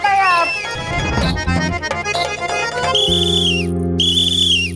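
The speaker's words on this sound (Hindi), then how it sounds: "ये कमरे में से सीटी की आवाज आ रही है।" A steady whistle rings out from inside a room in a fantasy TV drama, a continuous tone running through most of the clip and growing to a sustained high pitch toward the end, loud and close.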